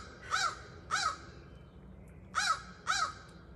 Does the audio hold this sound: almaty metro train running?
no